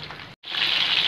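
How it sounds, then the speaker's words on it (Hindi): Prawns hiss and sizzle as they fry in hot oil. The steady, bright crackle breaks off briefly and then returns louder and continues. "अब ये फ्राई होगा."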